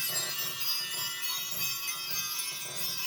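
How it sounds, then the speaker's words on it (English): Small bells ring continuously in a steady, bright shimmer, close and moderately loud, with their tones overlapping and no pauses. "I want to ring in some good energy with these bells"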